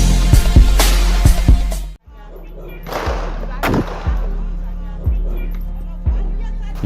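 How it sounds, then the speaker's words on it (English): Sharp gunshots ring out in quick bursts at first, then single shots follow at intervals over a low steady hum. "You see and hear the gunshots almost every day of your life."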